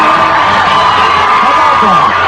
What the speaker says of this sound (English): One last round of applause for Madonna.